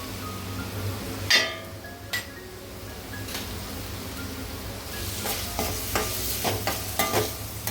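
Turmeric, red chili and coriander powder stirred into a sizzling pan of oil while cooking an egg and potato curry, with a steady hiss, scraping spoon strokes and a few sharp clinks against the pan.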